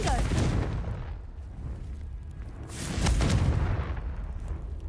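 Confringo fire spell blasts in Hogwarts Legacy on PS5, two booming explosive bursts with rumbling low-end decay, one at the start and a louder one midway, heard under a steady game background.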